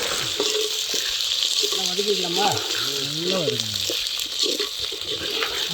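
Whole shallots and peeled garlic frying in sesame oil for a curry leaf garlic kuzhambu: a constant hissing sizzle close by, while a voice talks over it partway through.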